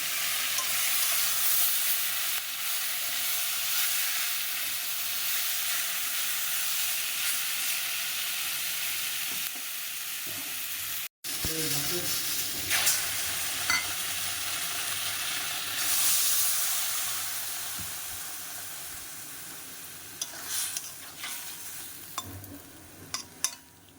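Vegetable stalks fry with a constant loud sizzle while mustard paste is stirred in, broken by spoon scrapes, a brief pause midway and a few sharp clicks toward the end.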